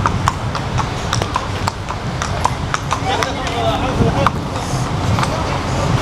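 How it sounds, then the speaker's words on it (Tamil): Horses step down from a military truck in Muscat, Oman, their hooves clip-clopping in an uneven, close rhythm on hard ground, with people talking over it throughout. "நிறையா குதிரையை வந்து இறக்கிட்டு போகிறாங்க"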